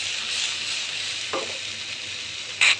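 Rupchanda fish frying in oil in a pan, a steady close hiss with a brief louder crackle near the end and a stirring scrape midway.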